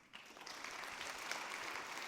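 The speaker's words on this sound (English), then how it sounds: "So round of applause again," Conference crowd at a CSS web developers' event breaks into applause, starting softly and swelling into a sustained, fairly distant clatter of clapping heard from the back of the hall.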